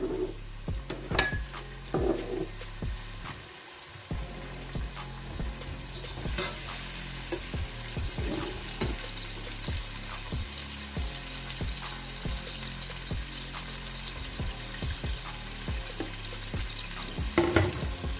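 Onions fry and brown with garlic-ginger paste and green chillies in a pan, a continuous close sizzle punctuated by repeated scraping and stirring strokes of a utensil against the pot.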